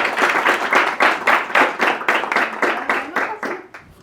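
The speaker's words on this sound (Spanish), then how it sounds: "un aplauso a Daniel" Audience applause for a guest speaker at a political lecture event, a dense patter of many hands clapping close by, holding steady for about four seconds before thinning out, with no talking over it.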